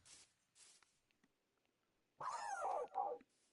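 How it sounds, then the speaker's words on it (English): Minecraft dogs give a short whining, yelping burst after soft scattered game noises, close and clear with no talk. "these Minecraft dogs, look at them"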